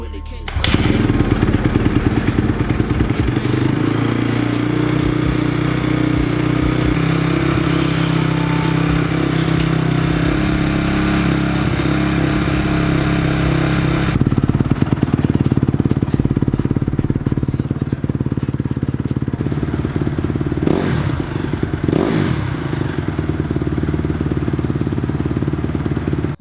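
Honda CRF250 dirt bike fitted with a Rekluse automatic clutch and Akrapovic exhaust, running close by with a steady loud engine drone and revs, then a shift in tone and a few sharp thumps near the end.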